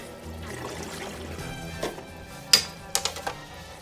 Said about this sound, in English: Now the water's emptying out of the filter